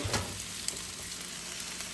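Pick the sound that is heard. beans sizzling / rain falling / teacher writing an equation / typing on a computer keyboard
beans sizzling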